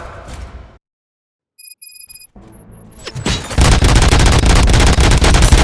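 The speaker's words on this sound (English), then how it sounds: "Gunshots? What's going on?" Gunfire erupts in the Robocop: Rogue City video game, a quiet pause with a few electronic beeps giving way to a loud, sustained burst of rapid shots and blasts that fills the last few seconds.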